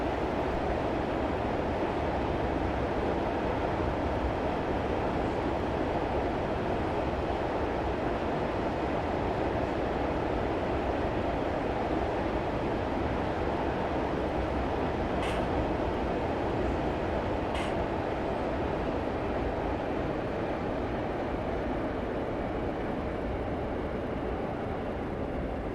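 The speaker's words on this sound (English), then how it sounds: "I'm going to shut off power and allow the train to coast." A train coasts with power shut off in Train Simulator 2015, a steady broad rumble of wheels and running gear under constant noise, with two brief high squeals partway through.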